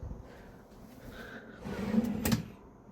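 A hotel room drawer slides open with a soft scraping rub and a low thud, close by and fairly quiet, against a faint room hum.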